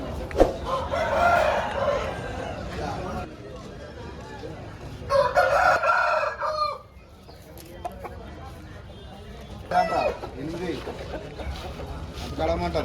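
Fighting roosters crow in bursts at the Gokavaram rooster market in East Godavari, over a busy background of murmuring voices and clucking fowl, with several loud calls rising and fading.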